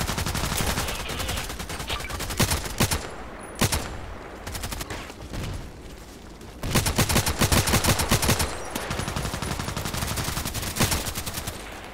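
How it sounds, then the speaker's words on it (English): Gunfire in the online shooter Contract Wars: loud, dense bursts of rapid automatic shots, close and sharp, pausing briefly a few times before resuming in sustained volleys. "Seven shots."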